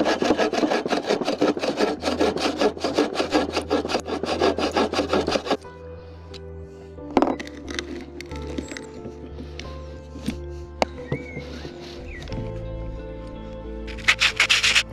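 An antique hand drill bores into wood with a rhythmic, grating scrape for about five seconds, then gives way to quieter scattered clicks and handling noises.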